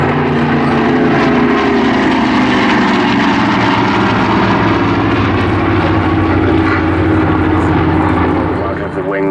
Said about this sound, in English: Today we have a Hurricane with a Merlin.